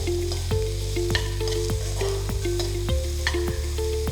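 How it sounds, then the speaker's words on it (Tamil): Two chopped large onions sauté in a teaspoon of oil with mustard seeds and urad dal, a loud steady sizzle broken by regular scraping stirs of a spoon against the pan. "வெங்காயம் நல்லா 1 நிமிஷத்துக்கு நல்லா வதக்கணும்."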